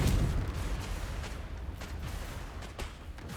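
A Confringo explosion spell in Hogwarts Legacy goes off as a booming blast at the start, followed by a rumbling, crackling series of smaller bursts and impacts.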